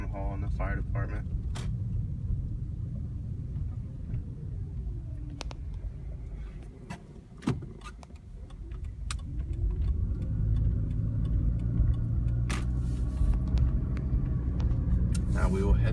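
A car drives down a small town's Main Street past Town Hall and the fire department, a steady close road rumble of engine and tyres with a brief dip midway, while a voice talks over it.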